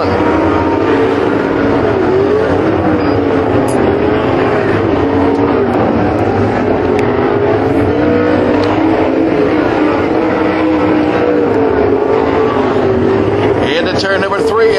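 Sprint cars race on a dirt track at Waco in a Sprint Series of Texas A-Main, their engines roaring steadily from a distance beneath an excited announcer calling the race.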